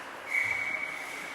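A referee's whistle at a youth under-19 ice hockey game in Stoney Creek, heard as one sustained, moderately loud blast of about a second over arena background noise.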